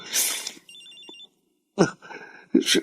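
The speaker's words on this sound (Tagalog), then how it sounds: "Si Max, tumatawag sa cellphone ko." A cellphone rings with an incoming call, a short electronic ringing pattern heard between bursts of other sound, moderately loud and close.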